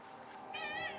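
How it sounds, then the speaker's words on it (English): Pet cat meowing nearby, a single soft, rising meow that enters partway through over a quiet indoor background. "I'm sure you guys can hear her meowing."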